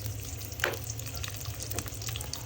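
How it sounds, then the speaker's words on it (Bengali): Chopped onions fry in hot oil in a pan, a steady soft sizzle with a brief stir or scrape partway through. "পেঁয়াজ হালকা করে ভেজে নিলাম।"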